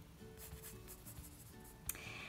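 A pencil sketches on paper in soft, close scratchy strokes, repeating in short quick bursts, faint against a quiet room.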